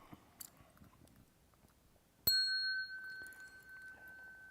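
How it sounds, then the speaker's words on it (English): A single bell is struck once during a Buddhist sutra lecture on the Avatamsaka Sutra, giving a sharp clear strike that rings on with a long, slowly fading tone in a quiet room. "The bell sound"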